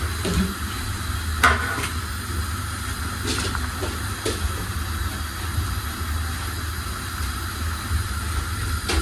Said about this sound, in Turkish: Suyumuz bakın böyle kaynıyor